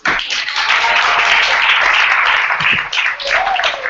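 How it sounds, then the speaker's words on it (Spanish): A church congregation applauds together for a married couple, dense sustained clapping filling the space loudly from start to finish, swelling slightly midway and holding steady without any speech over it. "Un aplauso."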